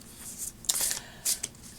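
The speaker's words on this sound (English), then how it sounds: "And so I'm going to shuffle the deck," A deck of playing cards being shuffled, with two quick riffling bursts close by against a quiet room.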